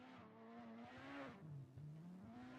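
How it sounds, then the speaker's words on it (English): Distant cars at a drift circuit at a drift series qualifying round: engines whine and rise and fall in pitch, faint and continuous across the clip. "I can hear some cars."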